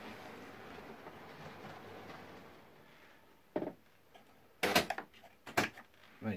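Model railway trains run past in a loft layout, starting as a soft continuous rumble that gives way to a few sharp, loud clattering bursts near the end, with no talk.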